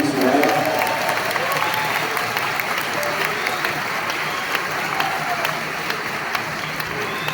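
A large audience at a party congress fills the hall with dense, sustained applause and clapping, steady and fairly loud throughout, with faint crowd murmur beneath.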